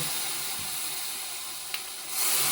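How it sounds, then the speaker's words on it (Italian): Broth poured onto hot toasted Sardinian fregola, giving a steady steaming hiss and sizzle that swells louder near the end, with a brief clink partway through. "Fregola ormai calda, mettiamo il brodo"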